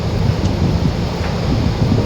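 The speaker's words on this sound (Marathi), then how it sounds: "हा समुद्र पाऊस असल्यामुळे समुद्र खवळला आहे" A deep, continuous roar of rough monsoon sea waves churning and crashing at the Ganpatipule coast, loud and steady with no pauses.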